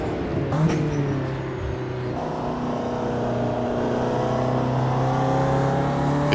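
Ginetta G40 race car engine droning steadily in the Automobilista 2 racing game, a sustained near, loud hum with slight pitch shifts as the car drives through corners on cold tyres.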